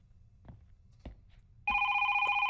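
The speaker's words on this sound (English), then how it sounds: "I'll get the doggone phone" A telephone rings in a scary video game, a loud, steady electronic ring lasting about a second after a few soft thumps or footsteps.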